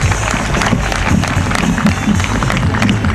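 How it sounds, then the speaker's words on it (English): Audience applause and clapping for speaker Larken Rose at a live talk, a dense, steady wash of many hands from a sizable crowd, loud and sustained throughout. "Give a round of applause to Larken Rose."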